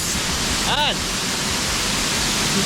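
Kapuka Falls in Davao Oriental, Philippines, roars in a loud, constant wash of white noise, with a brief bird-like chirp rising and falling early on.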